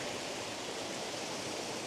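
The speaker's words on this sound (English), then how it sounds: "There's the waterfall just behind me." A tiered waterfall in Alva Glen, Scotland, gives a steady broadband roar of falling water, constant and fairly close, with no voices.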